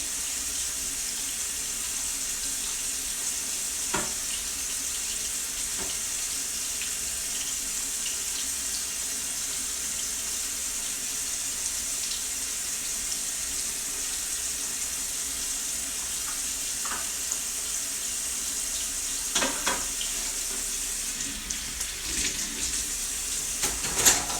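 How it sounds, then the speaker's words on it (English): Dishes are washed at a kitchen sink under a steady stream of running tap water, with occasional clinks of knives and cutlery rising above the constant hiss. "I can at least do my dishes."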